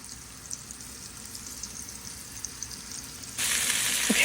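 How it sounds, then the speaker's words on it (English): Cubed meat coated in flour browns in a hot pan for a 1956 California casserole, giving a steady soft sizzle that swells into a louder, denser frying hiss near the end. "let's slowly add some of our coated cubed meat, and let's get this browned up."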